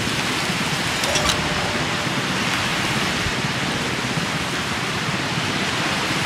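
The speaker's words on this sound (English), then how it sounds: "It would rain, just as we are doing this" Steady rainfall in the video game Jurassic World Evolution, a dense even hiss of drops on surfaces that runs unbroken throughout, with a faint brief tick near the start.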